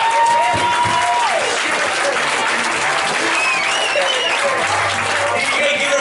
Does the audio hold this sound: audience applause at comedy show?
yes